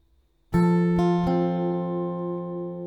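Acoustic guitar plucking notes from the C section of a song, a clear ringing onset followed by two more picked notes that sustain and slowly fade, played alone and close.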